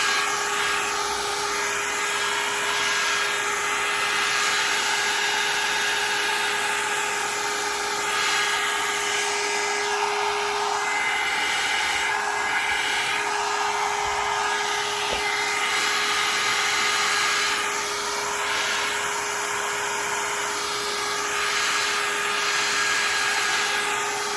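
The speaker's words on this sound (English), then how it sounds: "I'm actually going to use this hairdryer." A Vidal Sassoon hair dryer blows continuously at close range, drying alcohol ink, with a steady high whine and airy rush that shifts slightly in tone as it moves.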